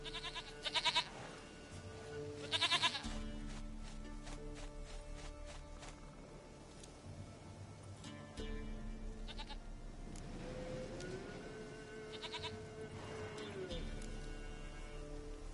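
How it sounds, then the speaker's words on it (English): A goat bleats in a PS4 video game, a couple of short, bright bleats early on over a faint rain-like game ambience and a low musical drone. "Goat of mine, dearest, sweetest goat."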